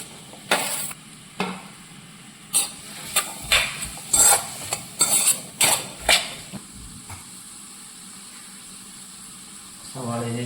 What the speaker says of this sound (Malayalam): വെളിച്ചെണ്ണ ഒന്ന് ചൂടായി കഴിയുമ്പോൾ നമുക്ക് സവാള ഇടാം